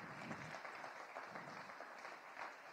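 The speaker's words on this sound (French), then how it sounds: "qu'on applaudisse fort les startups" An event audience applauds startup presentations at a demo day, a faint, distant wash of clapping that stays continuous and even.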